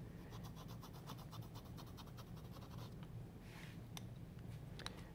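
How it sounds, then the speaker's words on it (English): Watercolor pencils scratch across textured shell paper in rapid rhythmic strokes, a faint close-up scribbling over a low background hum. "You ever drawn with two pencils at the same time?"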